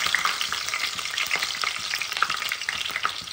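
Sliced onions frying in a pan for an eggplant masala curry, giving a steady, close crackling sizzle with brief stirring scrapes throughout, no voices.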